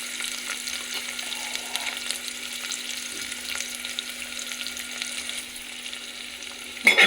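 Three sliced onions fry in a pan for poori curry, giving a steady close-up sizzle with occasional stirring. A short clatter comes at the very end.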